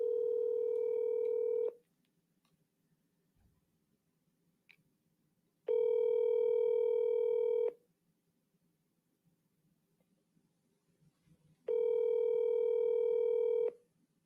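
Telephone tone heard while calling a number, as three loud, steady beeps about two seconds long each, separated by roughly four-second silences, close and clear with no talking.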